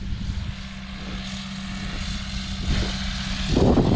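Steady low engine drone of a tractor running continuously in a cornfield during fertilizer spreading, growing louder toward the end, with no voices.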